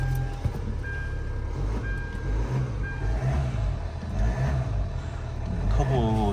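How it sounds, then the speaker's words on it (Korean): A used 2011 Hyundai Tucson ix diesel with about 140,000 km idles and settles as revs drop, a low steady engine rumble with a faint turbo whine, at an auction lot with someone talking over it. "RPM 떨어지는 거 보면 이제 터보 상태 알 수 있습니다"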